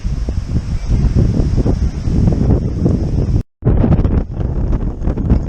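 Strong wind buffets the microphone near a spit on the Bulgarian coast by Nesebar, a continuous low roar with a brief cutout midway before the gusting resumes.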